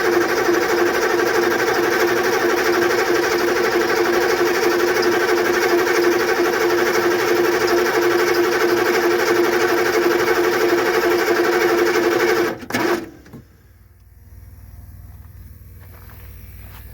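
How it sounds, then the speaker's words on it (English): A Chevy 6.2/6.5 diesel engine with a stuck injection pump cranks steadily and loudly for about twelve seconds with a dense mechanical drone, then cuts off abruptly into a quiet hum. "So we're going to crank it a little more."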